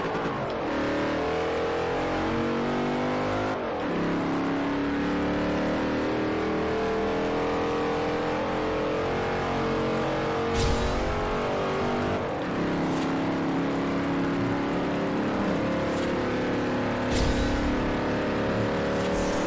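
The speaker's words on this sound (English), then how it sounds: "Here we have the speed test for the Challenger SRT." Dodge Challenger SRT in the Forza Horizon racing game accelerating through gears, a loud sustained engine roar rising in pitch with a couple of shifts and brief bright game chimes later on.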